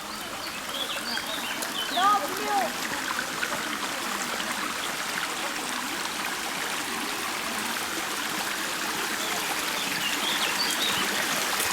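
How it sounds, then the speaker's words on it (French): Small landscaped stream flowing steadily, a continuous close trickle and gurgle, with faint bird calls and a voice talking briefly at one point. "Petit ruisseau là, aménagé."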